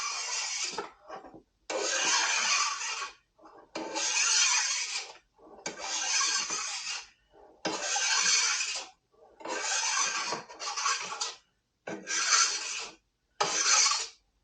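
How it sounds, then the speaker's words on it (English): A file rasps a burr off a chainsaw chain in repeated strokes, about a dozen close, scratchy passes of one to two seconds each with short pauses between. "Get that burr off."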